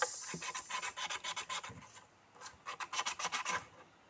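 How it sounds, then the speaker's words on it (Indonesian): Rhythmic scratchy rasping of sandpaper rubbed over iron nails, in quick back-and-forth bursts with a short pause midway, close up. "paku terakhir kita amplas."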